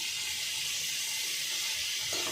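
Chopped brinjal and potatoes sauté in oil in a pan, giving a steady, close, hissing sizzle that runs unbroken throughout.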